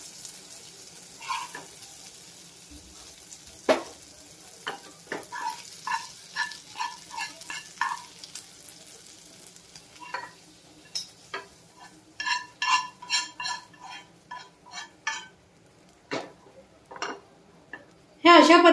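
Cooked prawns get scooped out of a frying pan into a bowl, giving a run of light scraping and clinking spoon taps against metal and ceramic. Faint sizzling fills the gaps, and the clatter grows denser toward the end.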